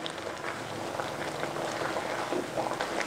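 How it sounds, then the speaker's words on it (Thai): Japanese pork curry with potatoes simmering in a pot, giving a soft, steady bubbling hiss with small irregular pops throughout, close and even, with no talking. "เคี่ยวต่ออีกประมาณ10นาทีค่ะเพื่อให้มันฝรั่งนุ่มดีค่ะ"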